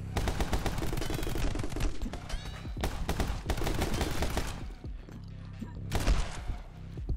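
Rapid bursts of gunfire from a video game, crackling in quick repeated volleys at moderate volume with short pauses between them.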